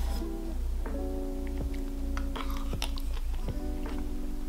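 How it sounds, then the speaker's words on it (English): Someone chews and bites through leftover Chinese five spice stir fry, with soft crunches and a few sharp bites over a steady background hum, plus faint tonal tones. "So I'm again eating my Chinese five spice stir fry"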